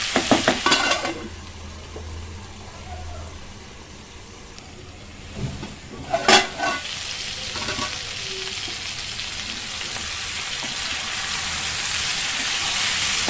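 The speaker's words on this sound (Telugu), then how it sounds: "కొంచెం అయితే వేగినట్టున్నాయి, ఆలు మగ్గిపోయినట్టున్నాయి" Potato pieces frying in a pan for a masala aloo curry, a steady hiss of sizzling oil with a few sharp scraping stirs early and midway.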